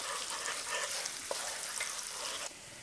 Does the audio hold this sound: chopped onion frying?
yes